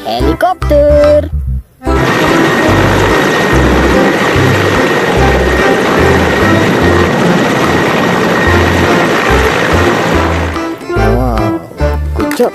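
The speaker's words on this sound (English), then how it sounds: "Wait, hey, helicopter." A toy helicopter gives off a loud, steady electronic rotor whir close by, with a long unbroken stretch in the middle and a voice talking before and after it.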